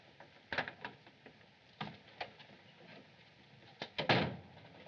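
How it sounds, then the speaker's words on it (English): A door is unlocked and opened in an old 1939 mystery film scene, with a few sharp clicks and rattling knocks of the latch and handle, clear and close, ending in a louder clunk. "Open the door."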